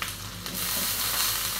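Shrimp sizzle in a little oil in a pan, a steady bright crackling hiss that swells slightly after the first moment, with no talking.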